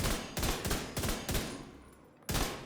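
Heavy shots ring out in The Division 2, four loud booming reports in quick succession, each trailing off into a decaying tail, then a pause before one final shot.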